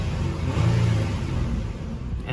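A Nissan Altima Coupe 3.5 SE engine revs steadily at close range, a loud continuous mid-range drone with a slight rise in the middle, no talking.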